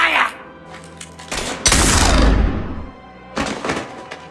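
Gunfire in Mass Effect 3 breaks out in a loud burst of blasts and booms lasting about two seconds, followed by another shorter volley, with voices around it.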